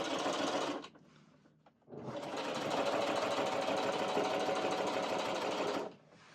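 A Singer heavy-duty sewing machine stitches stiff mesh fabric in a short opening burst, stops briefly, then runs steadily for about four seconds with a close, dense mechanical whir.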